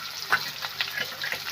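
Sliced onions fry with curry leaves and split green chilies in a pan for a Telangana-style taro curry, making a soft, brief sizzle with faint stirring scrapes and small spatters.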